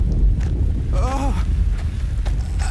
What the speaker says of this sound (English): An earthquake!